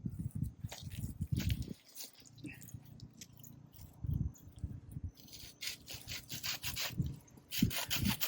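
A hand saw cutting through jujube tree branches, with rough rasping strokes in uneven bursts, close by, separated by short pauses, with no talking over it.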